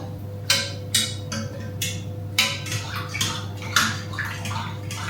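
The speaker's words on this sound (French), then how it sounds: "je prends une fourchette pour mélanger la levure avec l'eau" A fork whisks yeast into water in a bowl, giving a series of quick wet clinks and splashy strokes in an uneven rhythm, close and clear above a steady low hum.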